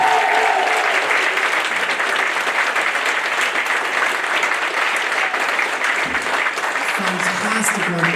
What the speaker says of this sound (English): So a massive round of applause for Recks and Lea Carroll.